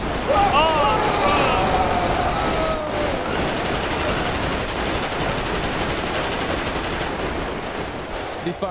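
A shotgun loaded with dragon's breath rounds fires during a police shootout in Grand Theft Auto V. Dense, loud blasts run nearly nonstop throughout, with voices talking over them.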